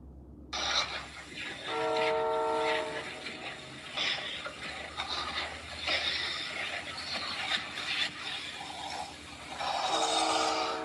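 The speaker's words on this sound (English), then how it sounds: "these trains are crazy down here" A train rolls past with a loud, drawn-out horn blast near the start and another near the end, rumbling and clattering steadily throughout the passage.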